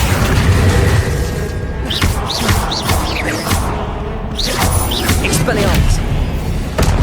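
An Accio summoning spell cast in the Hogwarts Legacy video game, a series of whooshing bursts and booming impacts amid busy combat effects, with voices calling out during the fight.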